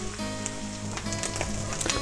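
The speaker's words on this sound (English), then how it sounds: "So I'm just gonna fry this a bit." Mushrooms frying in a pan on the stove, a close, steady sizzle with scattered crackles and pops throughout.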